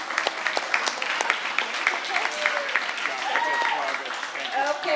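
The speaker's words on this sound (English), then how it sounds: "Let's give him a round of applause." Applause from a school crowd at a high school sports awards night, many hands clapping steadily at moderate volume while voices and cheers mingle in the room.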